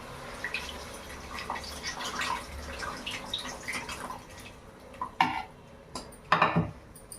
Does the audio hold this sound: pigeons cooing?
no